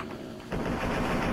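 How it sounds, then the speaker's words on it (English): Pistol shots in the video game Fallout 3, a burst of rapid dense gunfire that starts abruptly partway in and continues loudly to the end, with no voices. "how about I just pop him in the head 3 times with this pistol and hope for the best"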